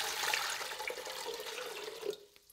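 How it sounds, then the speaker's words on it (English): Hot water from a kettle is poured into a vessel, a soft, steady splashing pour that ends with a few final drips, heard alone and close. "So first we have to put the water in. This has been preheated in the kettle."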